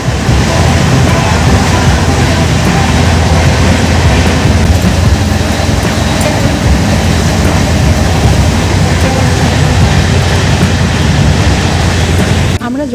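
A passenger train travels along the rails with a loud, continuous rumble and rattle of carriages, steady and close throughout, with some indistinct background murmur.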